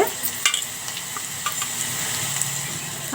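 Cumin seeds sizzle and crackle steadily in a hot pan, with scattered sharper pops and light stirring scrapes throughout.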